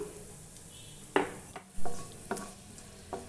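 Cashews and almonds roasting in melted ghee in a pan, a soft sizzle broken by a few sharp scrapes and stirs of a utensil against the metal, quiet and close.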